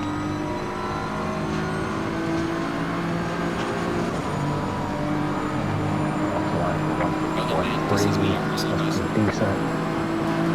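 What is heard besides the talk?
Porsche race car engine accelerating at Monza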